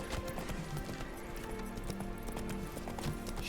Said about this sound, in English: Let me leap onto you, Roach